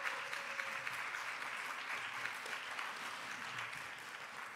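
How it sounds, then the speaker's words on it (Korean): Church audience at a winter praise revival clapping to welcome a choir conductor, a sustained, fairly even round of applause from a crowd heard at moderate distance. "다시 한번 힘 끌어내서 박수 한번 쳐드리도록 하겠습니다."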